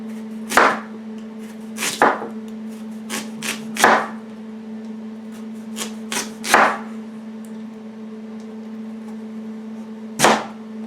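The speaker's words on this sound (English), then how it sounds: "So you want to cut them in discs, like so. Make sure you have a sharp knife." A sharp knife cuts vegetables into discs on a board, with about a dozen crisp chops at an uneven pace over a steady low hum, close and clear.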